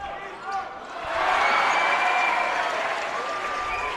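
High school boys basketball crowd at Foothill cheering for the Trojans, a broad roar that swells after a second and holds steady under a commentator's voice, with a sharp ball bounce early on.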